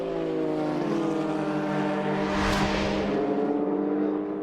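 Toyota endurance prototype race car at a World Endurance Championship six-hour race at Circuit of the Americas, a high engine whine building as it closes in, peaking loudly in a sharp pass, then dropping in pitch as it pulls away.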